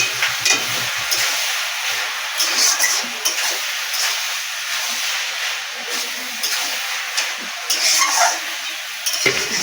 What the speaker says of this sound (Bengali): চিনিটা দিয়ে ভালো করে এর সাথে ভেজে নেব।